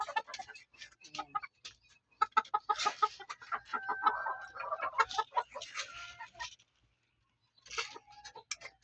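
Four-month-old backyard chickens clucking and calling in quick bursts while being fed, fairly close, with a brief quiet gap near the end before more clucks.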